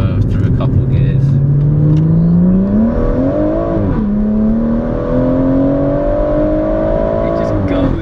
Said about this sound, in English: we can go through a couple of gears